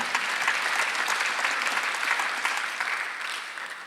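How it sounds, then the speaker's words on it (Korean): Church congregation applauding during a Sunday worship service, a dense, steady wash of many hands clapping together that carries on without a break and tapers slightly toward the end. "박수하세요."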